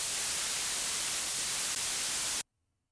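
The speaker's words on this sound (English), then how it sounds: "So here is oscillator A, white noise" Synthesizer oscillator putting out a white noise layer for a bass patch, a steady loud hiss across the whole range that cuts off abruptly near the end, leaving silence.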